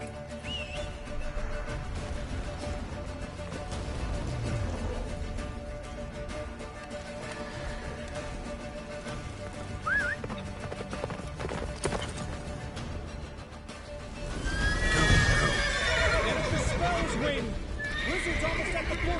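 A horse galloping in The Witcher video game, steady hoofbeats under a blizzard-like rush, with loud neighing and whinnying near the end, while characters talk over it.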